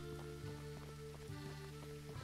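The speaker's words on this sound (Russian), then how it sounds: "Так, там дождик как раз начался." Rain falls steadily in a Russian village simulator game, a soft continuous patter with scattered drop ticks under a faint steady tonal hum from the game's soundtrack.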